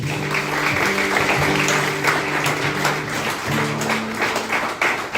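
A church congregation applauds continuously, a loud dense wash of clapping sustained throughout, with a low musical drone and faint voices underneath.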